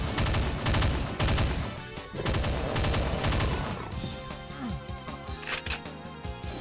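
Shotgun blasts ring out in Doom II, several loud, sharp bursts in quick succession over busy in-game music and effects, followed by lighter sounds and bits of game noise.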